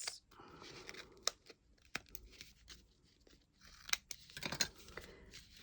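Someone trims the edges of covering material on a lighted model diner base, making faint, close snips and crinkly rustles scattered irregularly through the quiet.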